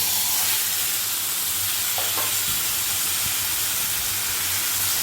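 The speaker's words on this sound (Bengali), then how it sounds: "শাকগুলোকে দিয়ে এখন ভালো করে একটু নেড়ে নিচ্ছি, তেলের সাথে মিশিয়ে দিচ্ছি এগুলোকে।" Taro leaves are stirred and fried in hot oil, giving a continuous loud sizzle and hiss with a few faint scraping stirs.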